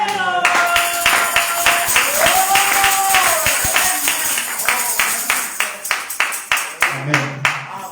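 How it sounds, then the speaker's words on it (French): A church congregation claps and cheers in acclamation during a Sunday service, with steady rhythmic clapping and raised voices throughout, the clapping growing sparser toward the end. "Ça mérite des acclamations."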